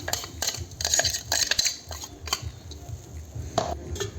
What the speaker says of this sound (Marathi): ह्यामध्ये आता हे मिश्रण आपण ओतूया